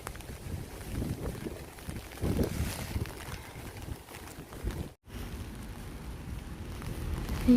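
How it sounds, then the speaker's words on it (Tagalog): Rain falling outdoors on a cold day, steady broadband patter with wind gusting against the microphone, moderately loud throughout with a brief dropout midway. "tapos umuulan pa"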